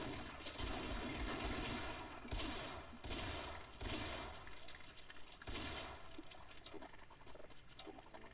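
Rapid pistol and shotgun fire from the Sven Co-op video game, dense overlapping shots and impacts forming a loud, continuous barrage throughout with no clear pauses.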